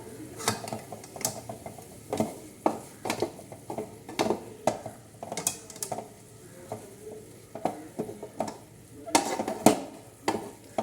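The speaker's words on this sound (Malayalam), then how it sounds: "നല്ലപോലെ മിക്സ് ചെയ്യാം" Tomato curry being stirred in a pan over low heat, a repeated series of close scraping and knocking strokes of a spoon against the pan, with a faint sizzle beneath and no talking.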